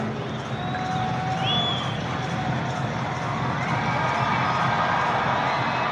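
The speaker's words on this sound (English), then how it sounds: "Crowd being prompted to make some noise by the video boards in the outfield." A baseball stadium crowd at a Cubs versus Reds MLB game swells into a broad, continuous roar of cheering and shouting, steady and diffuse throughout with distant voices mixed in.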